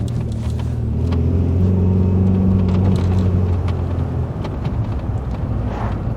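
A Rover 216 Coupe with a CVT gearbox pulls away, its engine giving a steady low drone that swells and holds with wind rumble, heard from inside the car.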